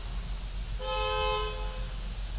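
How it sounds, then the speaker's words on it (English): A car horn honks outside, one sustained tone of about a second, heard faintly over a steady low background hum. "Don't know if you can hear that honking outside"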